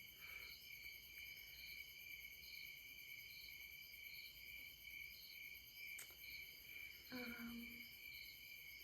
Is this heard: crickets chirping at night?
yes